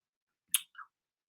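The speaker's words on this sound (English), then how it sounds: "I'm sorry, I'm clicking back and forth." Two brief, sharp clicks in quick succession, like a computer mouse being clicked, isolated against near silence.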